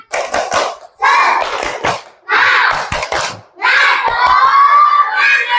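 A group of children clap a rhythmic pattern and shout a chant together, in several loud bursts with short pauses between.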